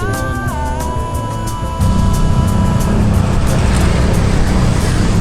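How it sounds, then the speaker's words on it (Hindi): Road traffic on a street in Ubud, Bali: a continuous loud rumble of passing vehicles with engine drone, with a brief high whining tone early on and heavier, denser traffic noise swelling after the first couple of seconds. "और ये ट्रैफिक से मुझे चिढ़।"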